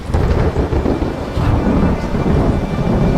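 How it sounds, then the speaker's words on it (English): Heavy thunderstorm effect from a ghost story audio drama set on open moors: loud continuous rumbling thunder rolling over steady rain and wind, dense and close throughout, with no voices. "A storm! It's breaking!"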